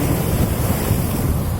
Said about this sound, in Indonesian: ombaknya lumayan besar